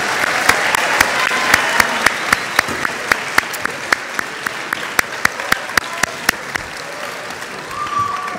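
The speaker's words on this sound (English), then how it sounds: "let's give them one more round of applause" An audience at a high school bands' spring concert applauds, a steady wash of clapping punctuated by sharp, regular claps that keep time before thinning out near the end.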